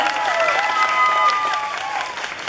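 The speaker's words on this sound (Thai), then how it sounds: "ขอเสียงปรบมือ" A crowd at the Thailand Pavilion, Expo 2015, applauds with steady, dense clapping, and a voice carries faintly over the noise.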